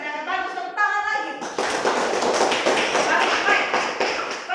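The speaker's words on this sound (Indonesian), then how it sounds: "Bagus, tepuk tangan lagi." Seventh-grade classroom students burst into dense, sustained clapping right after a short stretch of speech, the applause filling the rest of the clip close and loud.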